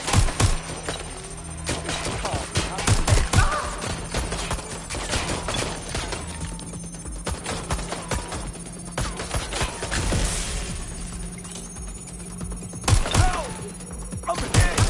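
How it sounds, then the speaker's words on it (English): Video game gunfire in Watch Dogs: Legion, dense bursts of rapid shots and heavy impacts over continuous loud action noise, with a voice briefly shouting. "Shots fired! Shots fired!"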